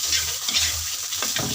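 Rice sautéed in the leftover oil from frying dried fish, giving a steady, close sizzle with soft stirring scrapes and no talking.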